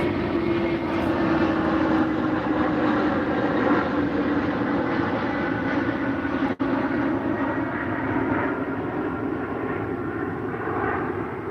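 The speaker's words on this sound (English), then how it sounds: "And man, planes be so noisy." A propeller airplane drones loudly overhead, its steady engine roar filling the whole stretch with a constant tone and a brief dip partway through.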